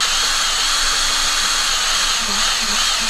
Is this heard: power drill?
yes